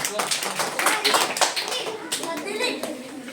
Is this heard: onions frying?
no